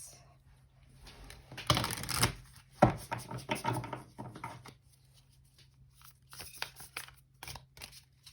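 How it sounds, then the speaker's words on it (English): Heart-shaped tarot cards, awkward to shuffle, riffle and slide together in a quiet room, giving soft papery flutters and taps with a dense burst around the second and third seconds, followed by lighter intermittent shuffling. "I want to use the heart-shaped cards that are very difficult to shuffle"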